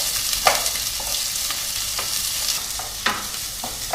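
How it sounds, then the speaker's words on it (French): Onions sautéing in hot olive oil in a sauté pan give a steady, moderately loud sizzle, with occasional spatula scrapes and stirring strokes scattered through it and no one speaking. "j'ai mis ma sauteuse à chauffer avec de l'huile d'olive et je vais faire tout simplement revenir mes oignons"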